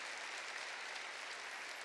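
Steady, dense applause from a church congregation fills the whole moment, loud and continuous with no voices standing out.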